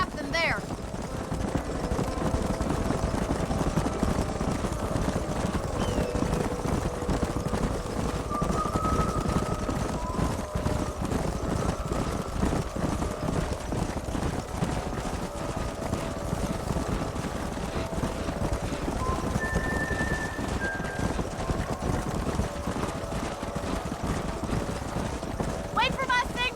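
Galloping horses in Red Dead Redemption 2 drum in a steady clip-clop rhythm during a canyon horse drive, with mechanical rattle and faint game ambience underneath.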